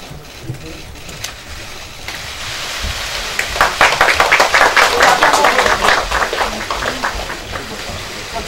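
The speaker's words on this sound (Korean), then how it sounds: "축하의 박수 부탁드리겠습니다" Applause breaks out at a party caucus electing a new floor leader as a bouquet is presented to the winner, dense clapping swelling midway and holding steady to the end.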